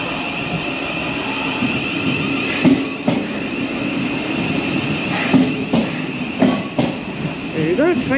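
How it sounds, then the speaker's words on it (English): A train departing Blackfriars station rumbles and clatters steadily nearby, with rhythmic clicks over the track and a rising electric whine near the end. "Anyway, the Sutton by Mitcham train is leaving."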